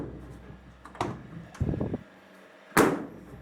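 A locking door handle on a 1929 Chrysler coupe clicks and rattles as the door is worked, with a sharp mechanical clack near the end. The sounds are close and brief, and nobody speaks.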